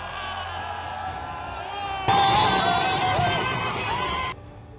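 A crowd celebrating India's World Cup victory with firecrackers and dhol-tasha drumming, a dense roar of cheers and shouts swelling loudly for a couple of seconds before dropping back to a lower murmur.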